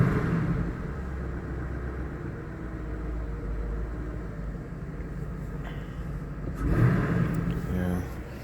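A Cadillac engine with a misfire on cylinder 4 idles with a low rumble, then revs up briefly near the end before settling, with a person speaking over it.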